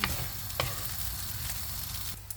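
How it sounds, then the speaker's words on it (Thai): Crab stick fried rice stir-fried over high heat, a continuous close sizzle with a few sharp scrapes and clinks of the spatula against the pan, no voices. "ไปแรงๆเอาผัดเลย"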